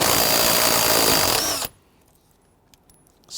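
A power tool whirring steadily as it spins out a 12mm bolt from the rear seat bolster of a 1992-1996 Toyota Camry, loud and close for about a second and a half, then it stops abruptly into near silence.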